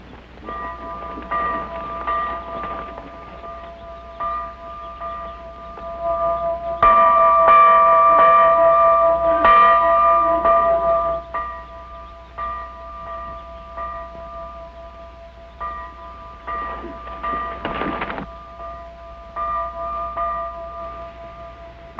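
Children ring the church bells of St Thomas mission school in a film. The tones come in uneven, clanging bursts with lingering ring, strongest in the middle, and nobody speaks.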